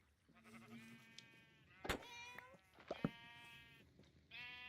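Sheep in Minecraft bleat several times, close and clear, a string of short wavering calls with brief pauses and one longer cry at the end.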